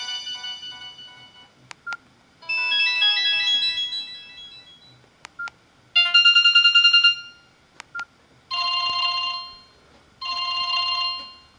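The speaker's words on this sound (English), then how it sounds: "Sadly, everyone who has this phone seems to have this, because they like having the default ringtone." A mobile phone's default ringtone plays through several bright, melodic bursts separated by short pauses. It is loud, close and alone, with no voices.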